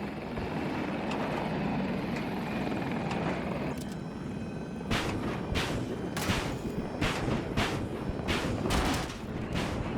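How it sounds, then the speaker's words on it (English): An attack helicopter in the video game Battlefield flies nearby, its rotor whirring continuously and loudly, while sharp bursts of gunfire crack out repeatedly in the second half. "I do see a chopper up"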